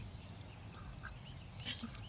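Ducks quack in short, scattered calls at moderate distance over a soft background hum, several separate quacks across a couple of seconds.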